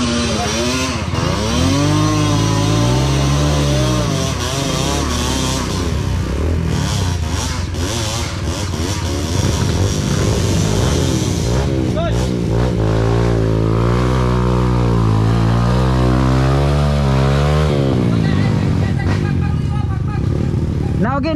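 Kawasaki KLX140RF dirt bike engine revs loudly and continuously on a trail in the Philippines, its pitch rising and falling through repeated throttle blips, with riders talking over it.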